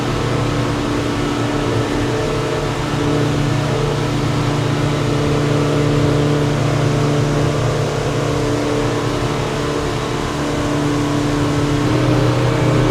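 Twin Yamaha 200 outboard motors drive a Seaking 770W boat at steady cruising revs, a constant loud droning hum with tonal engine whine and rushing wind and water, unbroken for the whole stretch with no talk.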